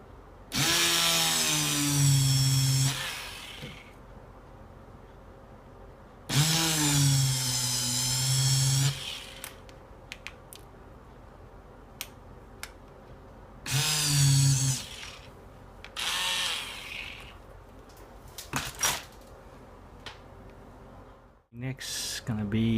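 A rotary tool fitted with a 4mm grinder bit drills a hole in a Tamiya Mini 4WD VS chassis. It whines loudly and steadily in four separate bursts of a few seconds each, with sharp clicks and small handling noises in the gaps.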